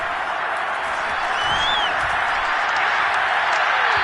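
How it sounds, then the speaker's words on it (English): Crowd applause in a Madden football video game, a steady, continuous roar of clapping and cheering from a large stadium audience, heard alone without talk. "We're going to give out a little applause on that play."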